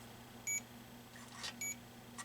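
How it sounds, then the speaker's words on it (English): ATX power supply tester giving two short high electronic beeps about a second apart, with a faint low hum underneath. "What the heck's beeping here?"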